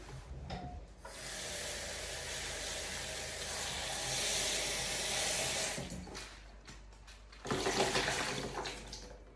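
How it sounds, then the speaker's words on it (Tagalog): Running tap water washes a sweet potato in a kitchen sink, a steady close splash broken by two short pauses and a burst of rubbing and splashing near the end. "Lagyan din natin ng sweet potato. Ito na siya. Hugasan natin."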